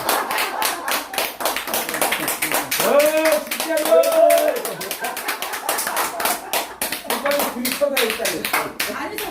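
A group of people clapping their hands in rapid, continuous bursts close by, while voices talk and call out over the applause.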